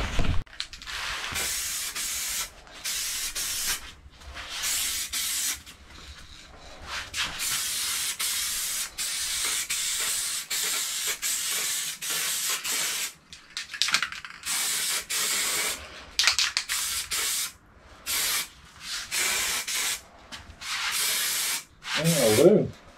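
Light coats of cherry red spray paint go on in a series of short hissing bursts separated by brief pauses, close and fairly loud.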